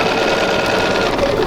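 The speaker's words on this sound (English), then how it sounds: "I'm going to take it over to the sewing machine" A sewing machine runs steadily while stitching quilt fabric, a close, loud, rapid mechanical whir with a fast even needle rhythm lasting the whole brief moment.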